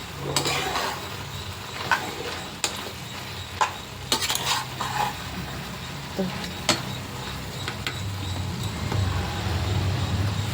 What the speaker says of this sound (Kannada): ಚೆನ್ನಾಗಿ ಫ್ರೈ ಆಗಲಿ ಟೊಮೆಟೊ. ಒಂದು ಅರ್ಧ ಟೀ ಸ್ಪೂನು ಅರಿಶಿಣ ಪುಡಿ, ಚೆನ್ನಾಗಿ ಮಿಕ್ಸ್ ಆಗಲಿ.